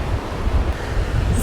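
Choppy sea surf crashes steadily at a busy beach in Can Picafort, Mallorca, with strong wind buffeting the microphone in a constant low roar throughout.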